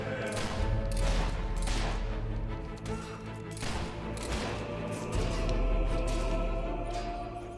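Rapid gunfire in Fable 3, a dense fusillade of shots over a low rumble that runs steadily through the clip, with brief lulls between volleys.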